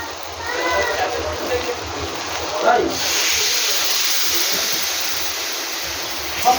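Water poured into a hot pan of poppy seed curry bursts into a loud rush of hissing steam that holds steady and slowly fades, with a voice speaking briefly before the pour.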